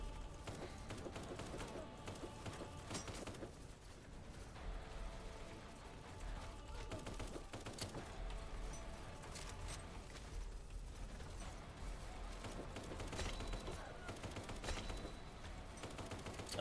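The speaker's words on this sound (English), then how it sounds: "tell me to run through the gunfire" Dense, continuous bursts of gunfire and clattering mechanical noise in the video game Kinki Spiritual Affairs Bureau, distant and muffled, running steadily throughout.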